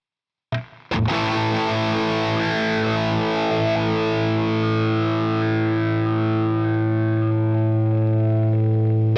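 Electric guitar through a Boss Katana amp with high gain and a boosted EQ band, one sharp attack and then a loud sustained distorted chord ringing on and slowly fading.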